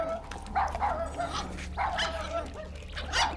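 A dog in the video game Guardians of the Galaxy gives a quick series of small yips and barks over a low steady hum, soft and close, with no talk over it.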